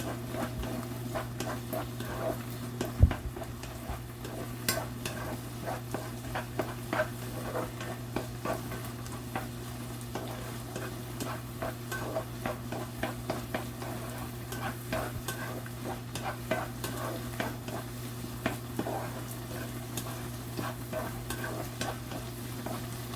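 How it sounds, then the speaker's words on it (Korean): Mushrooms stir-fried in a pan at a healthy-cooking class, giving a steady close sizzle with frequent scraping and stirring clicks, one sharp knock near the start, and no talk. "버섯을 볶는데 시간이 좀 더 많이 걸리죠."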